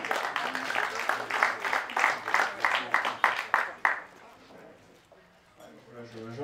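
Audience applause at a billiards final in Lausanne, a run of sharp rhythmic claps over about four seconds that fades out, with a voice speaking faintly afterward.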